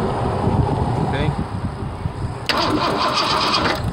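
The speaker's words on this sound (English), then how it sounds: "We should have pulse right here when I crank the engine." A 1987 car engine cranks over and over without catching, a steady rhythmic grinding whir from the starter that grows brighter partway through, close and loud.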